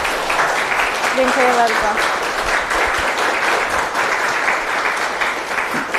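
An audience at a history lecture in Warsaw applauds the lecturer, a sustained, full round of clapping from many hands while a speaker's voice briefly offers thanks over it.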